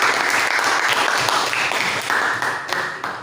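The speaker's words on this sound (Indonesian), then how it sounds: "Oke, tepuk tangan dulu kelompok 1." Classroom applause for a student group after a presentation: dense, steady clapping from many hands fills the whole stretch at a fairly loud, even level.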